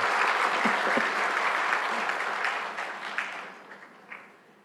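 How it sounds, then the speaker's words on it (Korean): A Sunday worship congregation bursts into applause in church, a thick wash of clapping that holds strong, then slowly fades with a few scattered claps lingering near the end. "우리 큰 박수부터 합니다"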